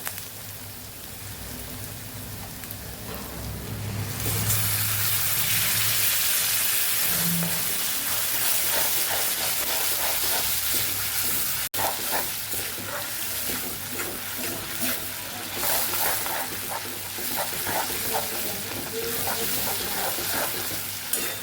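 Tomato puree poured into a pan of frying onions for kaju gathiya shaak, then stirred, giving a steady loud sizzle and hiss with scraping strokes of the spoon throughout.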